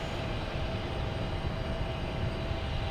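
A JetBlue airliner in Inspiring Humanity livery at Boston Logan Airport, its engines giving a steady, fairly distant roar with a faint whine, no voices.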